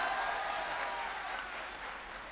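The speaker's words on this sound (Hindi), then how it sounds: "एक बार तालियां बजाकर" Steady, close applause from the audience at a mushaira poetry gathering in Titagarh, Kolkata, a dense wash of clapping that holds evenly and eases slightly toward the end.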